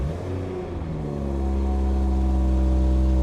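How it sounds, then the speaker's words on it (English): A Toyota Supra fitted with a throttle response controller starts up, its engine catching and settling into a loud, steady idle that rises slightly and holds close by. "let's turn on the car"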